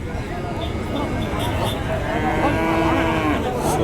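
A tall cow at a busy cattle market lows in a long, drawn-out moo amid crowd chatter and steady background noise.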